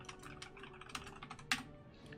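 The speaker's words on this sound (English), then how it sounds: "typing on this thing" Rapid clicky keystrokes on a Bloody B720 mechanical computer keyboard, a quick, close run of taps with no talking.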